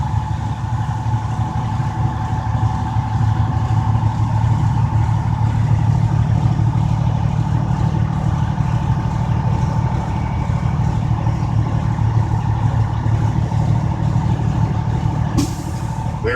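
A truck engine idles and is revved steadily in the cab during a pre-trip check, with a loud continuous low rumble, then a sudden sharp hiss near the end as the air compressor cuts out.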